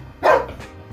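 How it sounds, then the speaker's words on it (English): A single sharp dog bark rings out close by, followed by quiet room sound. "you can't keep barking"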